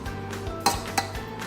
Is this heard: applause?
no